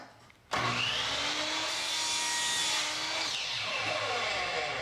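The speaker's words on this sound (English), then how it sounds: "You cut it with pretty much any kind of saw, like this." A powered saw cutting through plastic PVC plumbing pipe starts abruptly and runs as a loud, steady whine, with a shifting pitch as the blade moves through the cut.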